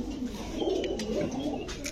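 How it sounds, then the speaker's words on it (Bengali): Saharanpuri pigeons cooing steadily in a large cage, soft continuous throaty coos that overlap through the whole stretch at close range, with no talking. "সাহারানপুরি কবুতর ভাই।"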